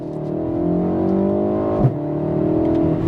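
BMW M140i xDrive hatchback accelerating, a loud, close engine note that climbs steadily with one brief shift-like blip partway through, no talking.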